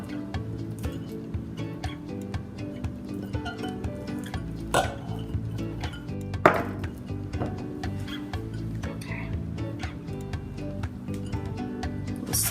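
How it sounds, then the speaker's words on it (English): A knife goes through a banana on a kitchen surface while dishes and cutlery clink and shift nearby, steady moderate kitchen clatter with a brief louder knock partway through, no talk. "I'm going to slice it into 2 pieces"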